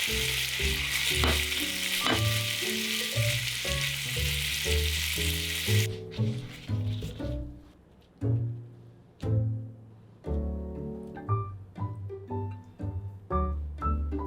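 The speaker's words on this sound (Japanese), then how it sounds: "豚肉に火が通ったらピーマンと人参を追加。" Pork stir-fried with green pepper and carrot crackles in a hot pan, with steady sizzling at first, then quieter frying punctuated by rhythmic scraping and clacking strokes of the spatula.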